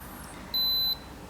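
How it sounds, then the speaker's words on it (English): A single steady high-pitched electronic beep, about half a second long, rings out clearly over a faint hum as an 18650 battery power wall hits its minimum cutoff voltage under load. "when it reaches the minimum cutoff voltage, it turns off and beeps and beeps and beeps"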